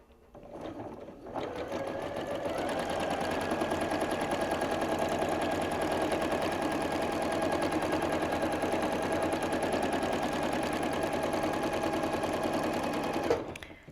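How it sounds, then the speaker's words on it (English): A home sewing machine runs at about half speed for free motion quilting, a steady rapid mechanical chatter that starts after a second and stops abruptly near the end, close and alone. "I've got my machine on about half speed."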